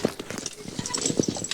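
A single working horse skids logs, its hooves thudding in a quick, uneven clip-clop close by for a moment, with no voices.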